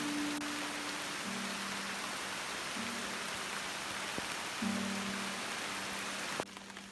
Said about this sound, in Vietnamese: Dưới kia là một khe suối, mưa rất lớn các bạn